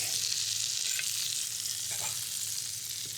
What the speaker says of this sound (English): And the sound of cooking continues.